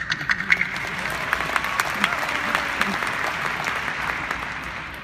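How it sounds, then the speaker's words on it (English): Audience applause at a university graduation ceremony for College of Natural Sciences graduates, many hands clapping with distinct sharp claps standing out from a steady crowd wash, a few voices faintly mixed in. "Let me give you a round of applause."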